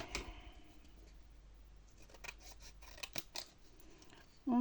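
Scissors snipping through paper while making a large envelope folio, a few short crisp cuts in quiet surroundings, with a louder rustle at the very end.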